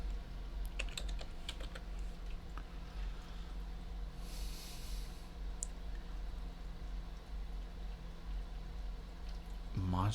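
Keys tapped on a computer keyboard while setting up a Starfinder game in Fantasy Grounds Unity, a scattered run of light clicks near the start and end over low steady room hum.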